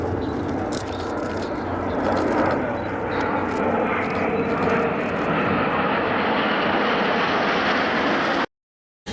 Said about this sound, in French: Et oui, ils sont 6 avions à avoir effectué cette Persienne 2023